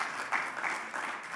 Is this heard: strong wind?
no